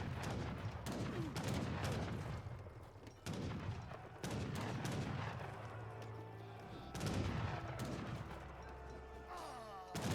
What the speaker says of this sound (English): Skirmishers now firing away.